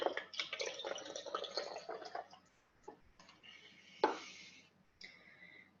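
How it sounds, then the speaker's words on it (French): Water poured from a tap into a small bottle for a homemade essential oil diffuser, a close, uneven trickle and splash that rises and fades, with a brief knock partway through. "on remplit la bouteille avec de l'eau"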